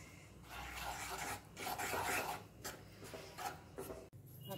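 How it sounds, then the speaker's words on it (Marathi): Wheat flour roasting in ghee for dry fruit laddu is stirred in a pan, making close, quiet, rhythmic scraping and rasping strokes that repeat steadily with brief pauses. "यामध्ये 2 चमचे हे घट्ट तूप घालायचं आहे आणि छान असं बेसन पिठासारखंच भाजून घ्यायचं आहे हे गव्हाचं पीठ"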